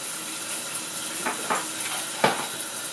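Steady hiss of shower water spraying nearby, with a few brief knocks and splashes rising over the constant rush.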